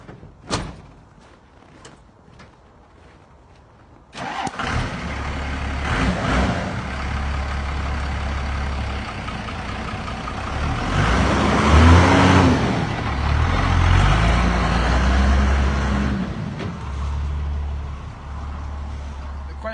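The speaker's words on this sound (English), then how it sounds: "now we get to watch a diesel engine run." A few clicks and a door thump, then a large engine starts and runs with a low, steady rumble that swells and eases, loud and close.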